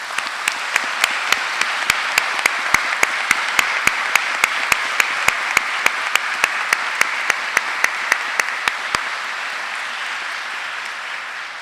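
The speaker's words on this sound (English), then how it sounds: "big applause for them" Applause from families at a graduation ceremony, a sustained even roar of many hands in a large hall, punctuated by regular loud, sharp claps close by, then tapering off toward the end.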